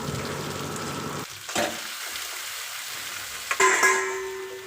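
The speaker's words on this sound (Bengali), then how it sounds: "ধুয়ে রাখা রসুনের কোয়া দুটো এর সময় দিয়ে নেব।" Garlic cloves and chicken pieces fry in a wok, a moderate sizzling hiss that dips briefly before a short scrape and clatter near the end, with no talking.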